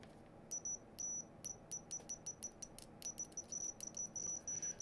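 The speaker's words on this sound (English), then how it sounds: "So the beeper appears to be directly tied to a very simple circuit there to measure continuity." A continuity beeper on a thermal camera and multimeter combo sounds in rapid, uneven bursts of short, high beeps as the probes make and break contact, faint and close against a quiet background.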